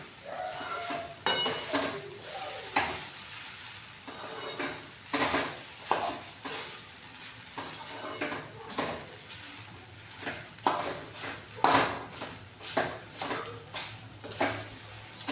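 Sabudana khichdi stirred in a pan over low heat, with rhythmic scraping spoon strokes and clinks against the metal over a soft continuous sizzle, close and fairly loud.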